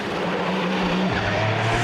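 A race car pulls out of the pits at Le Mans after refuelling, its engine roaring loud and close with a steady droning note that shifts pitch as it accelerates away, tyres faintly squealing.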